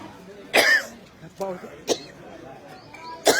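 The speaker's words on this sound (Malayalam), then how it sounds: "ഇവിടെ ഓരോ ഹോമങ്ങളും പൂജകളും നടക്കുന്ന പുകയാണ്. അതുകൊണ്ടാണ് ചുമക്കണേ" Repeated coughing from a person at a riverside temple on the Shipra river in Ujjain, where smoke from fire rituals and pujas hangs in the air; four sharp close coughs come at irregular intervals over faint background noise.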